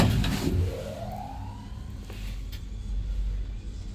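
Old Otis motor in a small lift whirs with a low steady hum, while a rising whine climbs slowly over the first second and a half and a couple of faint clicks follow.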